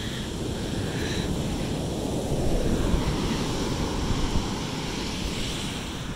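Ocean waves on a beach make a steady, loud rush of surf with broad splashing wash and some wind noise across the microphone, unbroken and without voices.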